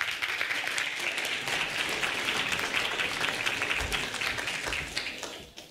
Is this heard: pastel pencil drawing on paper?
no